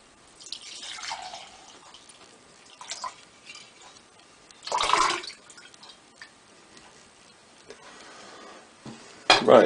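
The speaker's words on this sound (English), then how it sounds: "now I'm going to strain it. A bit of a shake. I'm going to strain it using a jelly bag" Coffee-soaked vodka mocha liqueur is strained through a jelly bag, giving sporadic drips, splashes and pouring sounds, mostly faint, with a few louder wet bursts near the middle and end.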